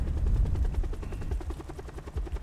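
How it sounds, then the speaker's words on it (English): A helicopter's rotor blades in the Black Ops 4 zombies game give a steady, rapid chopping pulse that stays loud and even, with a deep low rumble underneath. "I'm going to try to destroy it with the propeller blades of the helicopter"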